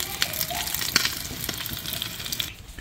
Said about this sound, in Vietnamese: Cái này chiên á phải thiệt là vàng giòn nó mới thơm ngon.